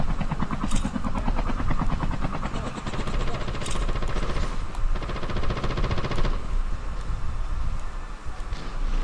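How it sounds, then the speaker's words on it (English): Airdrop plane passing overhead in PUBG, a loud continuous engine drone with rhythmic propeller-like pulsing that swells and shifts over about nine seconds, mixed with scattered game noises. "Airdrop is coming."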